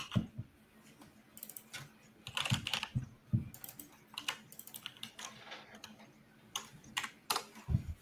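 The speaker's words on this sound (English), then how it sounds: "Keyboard." Someone types on a computer keyboard at a desk while writing code, producing irregular bursts of close, light key clicks with short pauses between runs, fairly quiet and with no talking.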